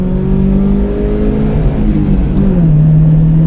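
A vintage Alfa Romeo Giulia Sprint GT engine pulls hard on small winding roads, a steady loud drone that rises in pitch and then dips as the revs change, heard from inside the car with no talk.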